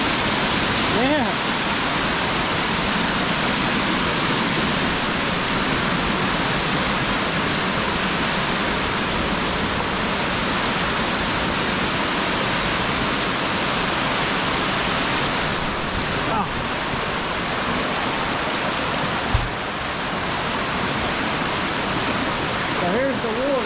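Water from a mine area pours along a trail in a steady, loud rushing flow, a continuous close-up wash of white noise with no breaks.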